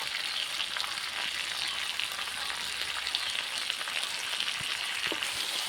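Spices sautéing in a hot pan for an egg curry, with a steady close sizzle and frying hiss and a few faint stirring clicks, no talking.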